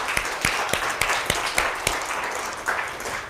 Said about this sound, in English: So let's get a little applause for that.